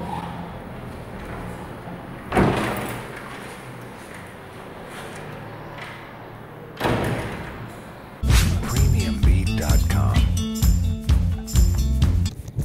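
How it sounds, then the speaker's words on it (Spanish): A door thuds shut with a sharp slam, followed shortly by another dull knock, before loud music starts. "Cierra la puerta por fuera"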